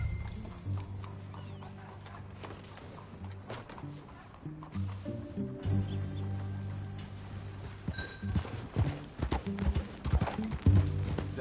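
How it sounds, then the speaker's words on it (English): Horse hooves clip-clop steadily in Red Dead Redemption 2 as riders travel on horseback, a rhythmic near trotting over a low music bed and background game ambience, growing busier toward the end. "That a new horse?"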